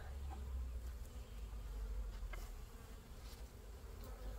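Honeybees hum around an open beehive during a midsummer apiary inspection, a soft, continuous buzz close by with a few louder passes as single bees fly near.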